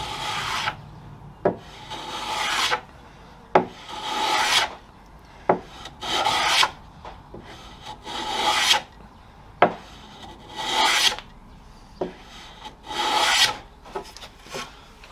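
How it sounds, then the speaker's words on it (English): Hand rasping or sanding along the edge of a wooden chair leg to chamfer it, a Leopold chair build: a series of rough scraping strokes, each a short burst in uneven rhythm, close and fairly loud with no talk. "chamfering the edge just helps to prevent that"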